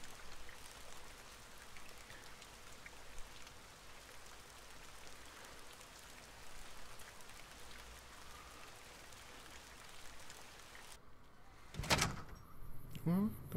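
Rain falling in the Fallout: New Vegas video game: a steady, soft, even hiss of rain runs underneath for most of the stretch, with a few sharper clatters and knocks near the end.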